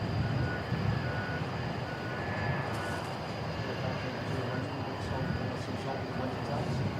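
Boeing 747-400 freighter departing Christchurch Airport: a steady, broad jet engine roar at moderate distance, constant throughout with no clear rise or fade, with faint background voices.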